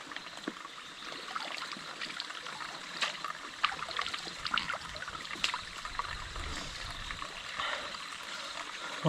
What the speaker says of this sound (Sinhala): වතුර